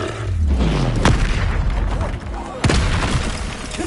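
Fire spell bursts in Hogwarts Legacy, two sharp booming blasts about a second and a half apart over a steady roar of combat noise, loud and close.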